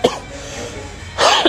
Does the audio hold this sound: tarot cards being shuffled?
no